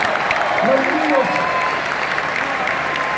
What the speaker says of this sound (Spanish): Un fuerte aplauso a todos los países que se hicieron presentes acá